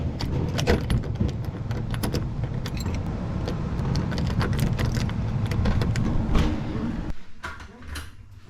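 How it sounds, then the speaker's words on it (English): Motel room keys jangle in a steady metallic rattle close by, over a low road-vehicle rumble, with no talk, before the sound drops away near the end. "All right, guys, we got our keys."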